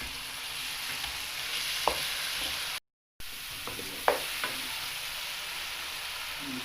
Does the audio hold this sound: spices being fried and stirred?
yes